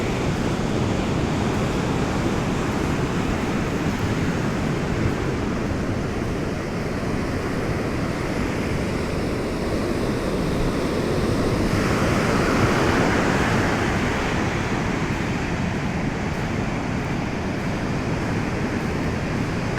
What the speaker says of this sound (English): listen to and watch the ocean.